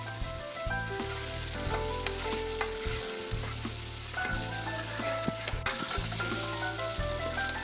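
Fried green chillies mixed with yogurt are stirred in a hot pan, giving a continuous bubbling sizzle with repeated spoon scrapes and knocks against the pan, close and steady with no voices.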